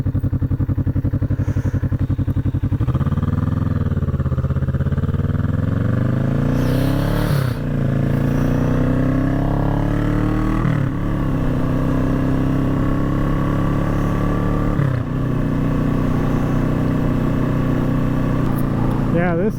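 A Ford Ka engine fitted with a booster plug, heard from inside the car as the accelerator is released into engine braking: a steady, loud, low drone whose pitch shifts gradually, with someone talking over it.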